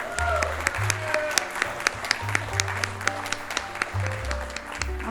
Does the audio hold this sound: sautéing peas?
no